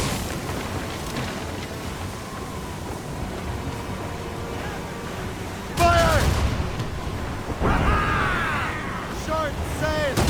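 Ship cannons boom in a naval battle in Assassin's Creed Rogue, two heavy blasts a couple of seconds apart over a backdrop of sea and wind, with shouted crew orders around them.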